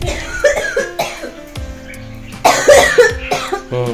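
Several harsh, bursty coughs in irregular fits, close and loud, with short pauses between bouts.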